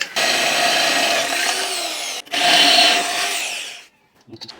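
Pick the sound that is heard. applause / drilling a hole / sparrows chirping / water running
drilling a hole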